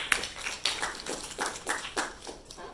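Sparse applause from a small audience at a university database systems lecture, a handful of separate claps and taps spread over a few seconds, fairly faint and with no talk over it.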